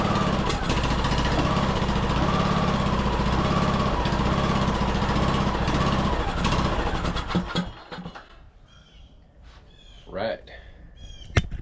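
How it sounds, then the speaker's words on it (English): A Poulan riding lawn mower engine runs steadily and fairly loud for about seven seconds, then cuts off, leaving quieter background with some faint bird calls and brief noises. "I'm gonna say that that's a pretty healthy sounding engine"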